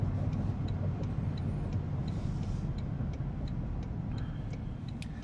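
Steady low engine and road drone from a 2026 Toyota Sequoia TRD Pro SUV under way, a continuous cabin-heard rumble with faint ticking clicks over the top and no talk.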